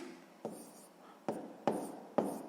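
A pen writes a sixth-grade maths equation by hand, giving four soft, distinct taps and strokes close by in a quiet room.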